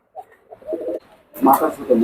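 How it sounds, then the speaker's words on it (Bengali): A Mosur breed pigeon coos softly in low, throaty pulses at a pigeon loft, and a louder voice talks nearby in the second half. "এই যে মসুরের মসুর কবুতর অরিজিনাল এর বাচ্চা ছিল ভাইয়া বুঝছেন কবুতরটা দেখেন"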